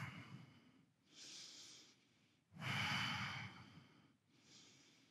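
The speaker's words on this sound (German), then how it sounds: "tief atmen." Slow, deep breaths during a yoga practice, three long audible inhales and exhales at close range, each breath a soft airy rush separated by short quiet pauses, with no talking.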